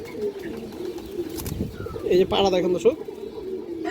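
Road-line pigeons at a loft give a few soft coos and bubbling calls around the middle of the stretch, fairly close, while someone talks over them.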